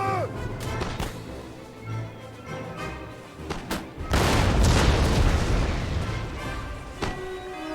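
Napoleonic-era cannons fire in Total War: Napoleon battle gameplay, heavy booms and rumbling impacts over a bed of battlefield noise, swelling into a dense sustained roar of barrage midway.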